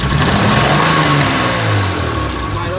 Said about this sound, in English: Wide open throttle, and hold on, I don't know where the throttle is.